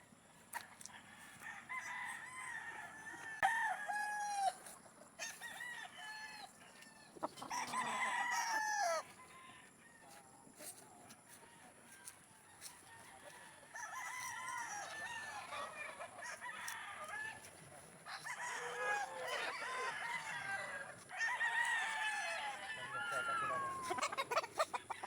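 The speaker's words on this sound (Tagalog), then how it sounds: "5:30 na kasi yan kaya naghapon na ang mga manok" Gamefowl in a breeding pen in the late afternoon: hens cluck steadily while roosters crow repeatedly, some near and some farther off, with a few quiet voices underneath.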